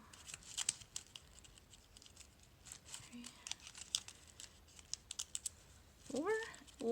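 Sheets of thin printer paper being creased and folded into an origami holiday tree, giving scattered crisp crinkles and taps, with a brief paper slide near the end, heard close and fairly quiet.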